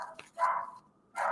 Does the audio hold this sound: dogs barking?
yes